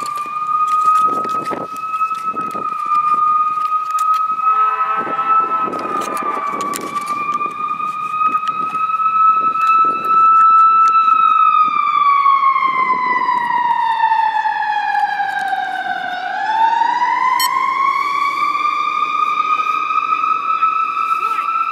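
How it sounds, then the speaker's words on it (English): A fire engine drives slowly past at about 15 miles an hour, its siren wailing loudly and continuously, rising and falling in pitch as it goes by, with some background noise. "the fire engine just drove by at 15 miles an hour"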